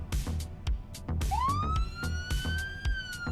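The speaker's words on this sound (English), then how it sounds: "I think this is going to have a really intimidating sounding police sirens." A standard American police car siren in the BeamNG driving game winds up and holds a rising wail, loud and close, over a busy, rhythmic backdrop of game sounds.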